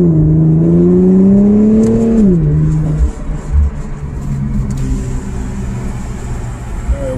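Infiniti Q50 exhaust with a Rev9 catback and PLM axle-back, a loud close drone rising in pitch then dropping off as revs fall, settling to a steady low burble under cabin rumble.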